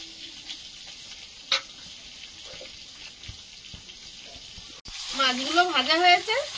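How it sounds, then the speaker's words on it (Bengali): Bogo sea fish sizzles steadily in hot oil in a home kitchen, a continuous close frying hiss that runs alone at first before a voice starts talking over it. "মাছগুলো ভাজা হয়েছে, তুলে নেবো প্লেটে।"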